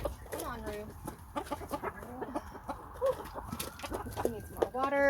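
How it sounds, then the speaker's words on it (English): Several chickens cluck and chatter close by in short, irregular bursts, with soft rustling around them and a rooster-like call near the end. "I'm feeding the chickens"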